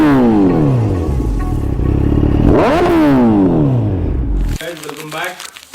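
A Gen 3 Suzuki Hayabusa-type sportbike exhaust revs sharply up and down and throws flames, with rising and falling engine sweeps. It is loud and close, followed by a crackling pop at the end, with excited voices around it.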